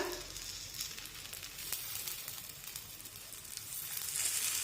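Steady, close sizzle of dahi dhapate flatbread frying in oil on a pan, with soft crackles running throughout and no talking.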